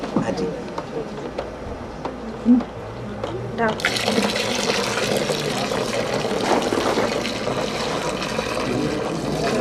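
Hot milk being stirred with lassi in a pot, giving a steady wet swirling and sloshing that grows fuller and louder partway through, with a brief clunk early on and voices talking quietly underneath.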